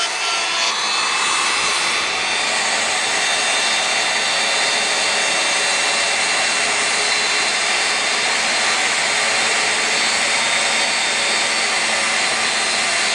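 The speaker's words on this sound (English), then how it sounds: "surface grinding on the mill. Tool post grinder." A tool post grinder surface grinding on a milling machine, producing a steady, loud high-pitched whine and hiss that runs continuously without pause.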